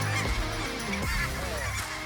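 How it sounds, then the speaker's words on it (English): Ross geese honk on the Saskatchewan prairie during a hunt, a dense overlapping chorus of loud, nasal calls from a large flock close by. "chasing big feeds of Ross geese across the prairies of Saskatchewan."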